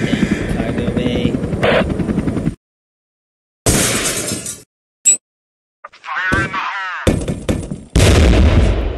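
A helicopter in the Henry Stickmin video game, on an airship, is heard as a rhythmic chopping rotor beat at the start. It then gives way to clashing bursts of breaking, shattering and gunfire-like effects with silent gaps between them.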